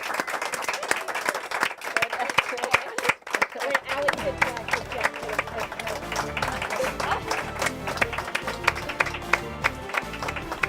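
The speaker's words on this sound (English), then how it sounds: "Should we keep clapping?" A group claps at the end of a school senior special live show, with dense, steady applause running nearly throughout and a brief dip partway, as voices talk over it.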